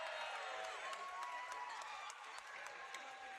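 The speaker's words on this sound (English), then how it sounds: "Crowd, can you give me a cheer if you think the HDMI cables is going to win?" A crowd at a Minecraft speedrunning tournament cheering and whooping in a dense, sustained burst of noise, mixed with talking.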